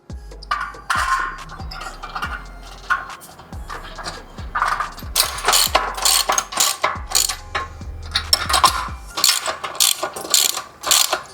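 Bolts and washers being fastened during assembly of an Uplift MC-1000 multifunction cable gym machine, giving a run of ratcheting clicks and metallic clinks that come in irregular bursts, close and fairly loud.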